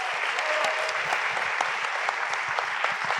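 A seated audience at a talk on filmmaking and writing breaks into steady applause, dense overlapping hand claps at moderate volume filling the room without letting up.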